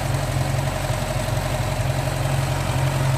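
A Rush 6 hp small engine idles steadily after being restarted, a continuous low throbbing hum with even vibration and no talk over it.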